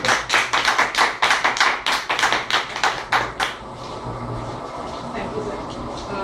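Rapid, dense applause from an audience welcoming a speaker to the stage at an evening event, loud at first and then thinning out into low room murmur.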